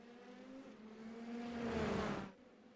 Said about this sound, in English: The sound of the limiter of the car.